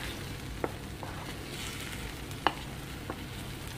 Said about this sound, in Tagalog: pwede na po natin lagay yung itlog. So, haluin lang po natin.